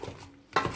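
Pumpkin and onion are turned over in a cooking pot, making a few short scraping clatters of a utensil against the pot with a soft stirring sound between them, close and quiet.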